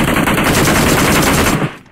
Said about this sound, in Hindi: गोली मैंने मारी, जरी ने मारी